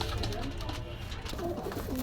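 Soft, low pigeon coos murmur repeatedly through a steady, noisy background at a pigeon shop in Gollamari, Khulna.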